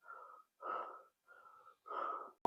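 Close, heavy breathing from someone out of breath while climbing at a temple site, four rasping breaths in quick alternating rhythm, short inhales and longer wheezy exhales, with no other sound.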